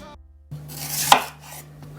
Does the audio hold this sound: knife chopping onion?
yes